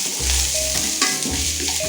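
Onions sauté in a pan with a steady, close, bright sizzle and occasional stirring scrapes, with no voices.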